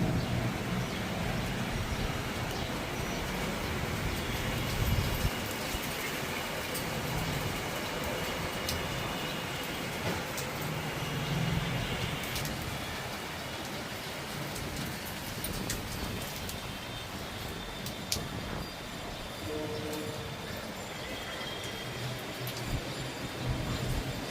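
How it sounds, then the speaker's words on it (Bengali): Heavy monsoon rain falls outside a dark house, a dense, steady roar of downpour with no voices. "দেখো জোরে বৃষ্টি হচ্ছে"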